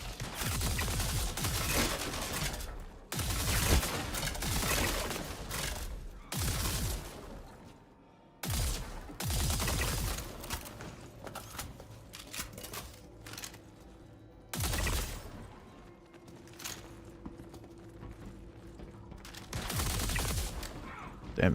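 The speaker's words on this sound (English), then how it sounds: "Sound like a Zenith rifle" Zenith rifle fire in the space shooter Star Citizen, sharp loud bursts of several shots separated by quieter gaps with low ambient hum, repeating across the stretch.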